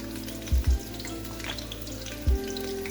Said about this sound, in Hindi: अब मैं इसमें अपने अनियन ऐड कर रही हूँ।